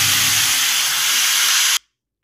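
Wet bottle gourd, soaked in water, hits hot oil with salt already added and erupts in a loud, dense hiss that holds steady for nearly two seconds, then cuts off abruptly.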